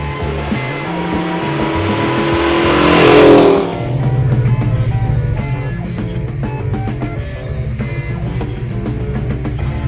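A 1970 Plymouth Superbird at about 80 mph sweeps past in a loud rushing whoosh. A strong, steady V8 roar continues as it carries on at speed.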